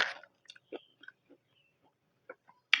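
Crispy baked purple sweet potato chips crunched in the mouth, a few sharp, separate crunches and bites spaced across a quiet background, close and fairly faint.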